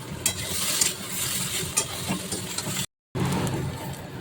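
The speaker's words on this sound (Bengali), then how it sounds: "এখানে সবজি ভাজা হচ্ছে একবার নেড়ে দিই" Vegetables sizzling and frying in a pan while being stirred with a utensil, a steady close hiss with occasional scraping clicks, broken briefly by a short dropout of silence.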